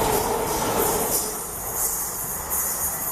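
An electric commuter train rolls along the rails with a steady, loud rumble and high metallic wheel hiss, close and continuous without talking.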